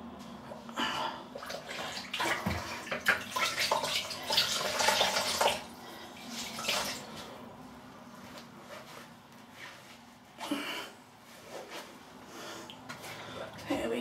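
Water runs into a sink and a blue shaving scuttle during a wet shave, a broad rushing hiss that swells loudly in the first seconds, then thins to quieter trickling with a brief surge near the end.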